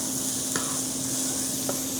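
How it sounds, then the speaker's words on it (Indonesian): Gulai spice paste frying in a pan while being stirred, a steady close sizzle with a faint hum and a couple of light utensil scrapes against the pan. "Lalu kita aduk-aduk"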